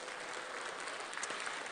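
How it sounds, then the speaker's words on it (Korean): Audience applause at a Korean political lecture, steady and fairly distant, sustained clapping from a crowd filling the whole clip with no speech over it. "박수 한번 보내주시죠."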